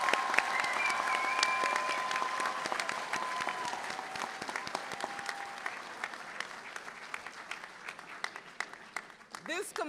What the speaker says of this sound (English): Let us join in tribute with a rousing round of applause for today's promising